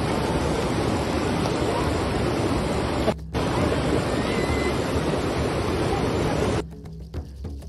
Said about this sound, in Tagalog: Ang lakas ng baha pala.